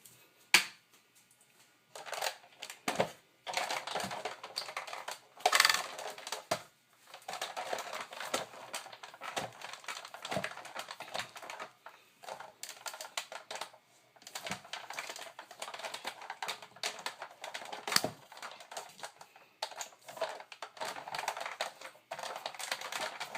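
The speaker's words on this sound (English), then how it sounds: "I'm also going to roll it through a couple times, and that way I'll ensure that it'll cut all the way through." A manual die-cutting machine rolls cardstock through an intricate cutting die, making a long run of dense, uneven crackling clicks and creaks at close range that keeps going with brief pauses and has no voices.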